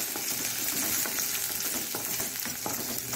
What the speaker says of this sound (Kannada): ಇನ್ನು ಈರುಳ್ಳಿಯನ್ನು ಇದರಲ್ಲಿ ಹೀಗೆ ಮಾಡಿಕೊಂಡು ಹಾಕ್ಕೊಂಡು ಸ್ವಲ್ಪ ಬಾಡಿಕೊಳ್ಳೋಣ